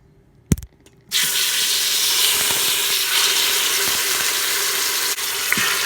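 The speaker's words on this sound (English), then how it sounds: "We're going to sear these about 2 minutes on each side until they get brown." Oxtails sear in an Instant Pot on the saute setting. A couple of brief clatters come first, then a loud, steady sizzle begins and runs without a break, with small pops scattered through it.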